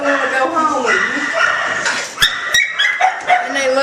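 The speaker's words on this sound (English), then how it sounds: "right here is our puppy room and our small dog room" Small-breed dogs and puppies in a shelter's puppy and small dog room bark, yip and whimper close by, with sharp barks standing out under a person talking.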